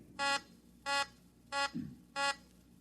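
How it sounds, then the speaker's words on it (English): A beeper plate checks banknotes in a radio drama scene, giving four evenly spaced electronic beeps at roughly half-second intervals, clear and close, with no voices. "Put a couple of them over your beeper plate."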